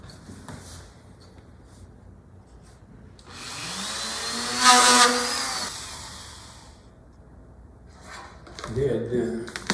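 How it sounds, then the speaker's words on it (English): A drill bores a starter hole in a workpiece for scroll saw inlay, its whine rising and fading over a couple of seconds, with someone talking quietly before and after. "Drill my hole."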